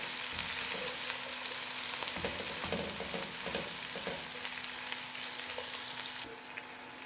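Onions fry in a pan for a chicken lasagna with white sauce, cooking only to a light golden brown. A steady close sizzle runs throughout with a few soft stirring scrapes, and the sizzle drops slightly near the end.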